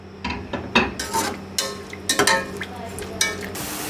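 Medium onion frying in oil for a tadka for mutton yakhni pulao, with a spoon stirring and scraping the pan in irregular clattering bursts over a soft sizzle, close by.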